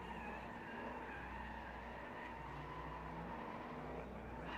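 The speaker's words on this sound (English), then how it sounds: "Pat Mordaunt, V8 turbo-powered Apex Yokohama Tires SC" A V8 turbo-powered Formula Drift car skids through a night event in Las Vegas, a steady loud roar of engine and tire noise with no break across the whole stretch, no voices over it.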